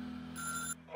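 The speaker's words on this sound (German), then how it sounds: "Es klingelt mal wieder" A telephone rings once in the workshop management game Little Big Workshop: a short, bright electronic ring burst over a low steady hum, then a brief rising tone follows.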